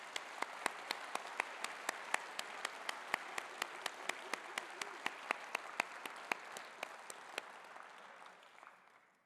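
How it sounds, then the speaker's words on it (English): An audience at the 2018 Conservative Party Conference applauds, a sustained roar of many hands with distinct crisp claps popping out, holding steady then fading away toward the end. "Let's give them a round of applause."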